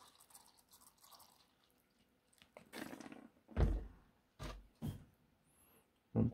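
Water is added to a tarantula enclosure as a handful of separate dull thunks and splashes, close and fairly quiet, with soft handling noises in between.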